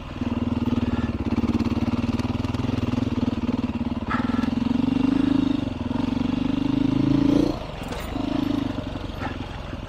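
A Beta 390 dirt bike engine runs steadily under load while riding, a loud continuous drone with a slight rise in pitch before easing off near the end.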